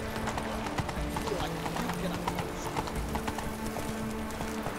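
Horse hooves gallop in The Witcher 3: Hearts of Stone, a fast, even clip-clop running continuously at close range, with a spoken voice over part of it.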